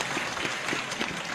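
Audience applause after a religious Q&A lecture with a preacher, dense steady clapping filling the whole short stretch, moderately loud and close, with no talking over it.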